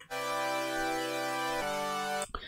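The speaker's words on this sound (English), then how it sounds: "And then the Serum patch sounds something like this" A Serum synth saw-layer patch holds a bright, harmonically rich chord, loud and steady, moving to a different chord around the middle and ending abruptly after roughly two seconds.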